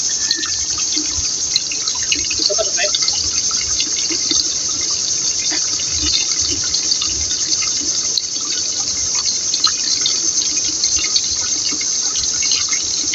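Water current flowing in a shrimp fishpond stocked with Vannamei shrimp, a steady hissing rush with scattered drips and splashes, continuous and fairly loud.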